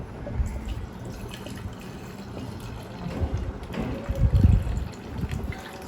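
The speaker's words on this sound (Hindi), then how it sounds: "तो यहाँ पे 200 ml पानी ले लिया।" Water, 200 ml, is poured into a shaker for a whey protein sachet, a low steady trickle that swells into a fuller gurgling pour near the end, close and fairly soft.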